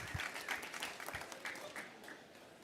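Faint, short burst of audience applause for a conference panel on sustainable livestock, a scattering of claps heard at a distance and fading quickly.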